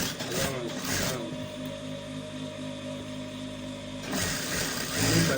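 A sewing machine stitches a student school uniform in a steady, continuous mechanical whir for about three seconds, with brief voices and handling noise before and after the run.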